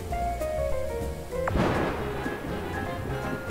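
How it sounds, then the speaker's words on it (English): A single crash of thunder in the cooking game Cook, Serve, Delicious, a sharp crack followed by a low rumbling roll that fades beneath steady background game music. "That thunder means everybody's about to burst through the door there."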